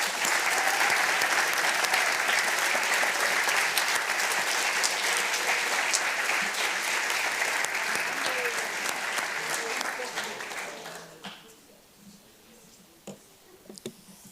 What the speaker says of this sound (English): Please take another round of applause for all your hard work.